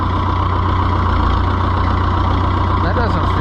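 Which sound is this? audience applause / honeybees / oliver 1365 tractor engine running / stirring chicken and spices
oliver 1365 tractor engine running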